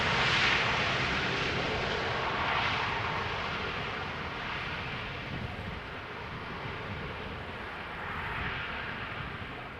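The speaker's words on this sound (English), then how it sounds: "This is a KLM flight between Paris, Charles de Gaulle and Amsterdam, one of the many that we see on a daily basis" KLM airliner arriving from Paris Charles de Gaulle at Amsterdam Schiphol Airport produces a steady broad jet roar at moderate distance, slowly fading and swelling with wind noise throughout.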